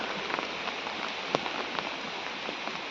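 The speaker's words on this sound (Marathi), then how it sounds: "पाऊस चालूच आहे रिमझिम" Steady light monsoon drizzle in Dapoli pattering on a surface, with scattered soft drops standing out over a continuous hiss.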